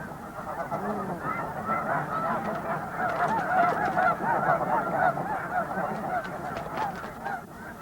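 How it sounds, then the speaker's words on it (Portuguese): A large flock of young Canada and Siberian geese on Wrangel Island honks continuously, many overlapping calls forming a dense, steady clamor at moderate distance. "os gansos jovens canadenses e siberianos se misturam"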